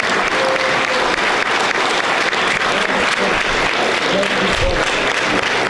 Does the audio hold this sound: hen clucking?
no